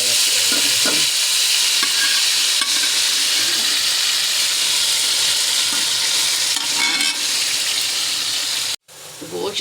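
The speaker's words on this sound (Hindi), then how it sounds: "गोश्त साडा भुज गया जे" Loud continuous sizzling of meat frying in a pot for Lahori biryani, with scraping stirring strokes throughout, close up, ending in an abrupt cut and a brief resumption.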